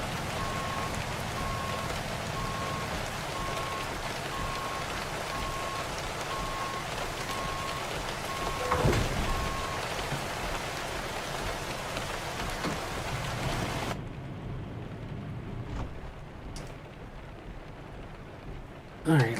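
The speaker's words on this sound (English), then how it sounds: "And that rain's loud." Loud, steady rain drums on a truck in the driving game American Truck Simulator, a dense hiss that continues for most of the stretch before dropping away abruptly near the end.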